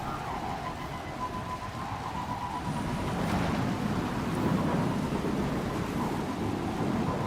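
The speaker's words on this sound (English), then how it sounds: "Storm's coming in now, too." A thunderstorm with steady heavy rain rolls through the Destiny 2 game world, a broad hiss swelling into a deeper rumble of thunder midway and holding loud to the end, with no talking.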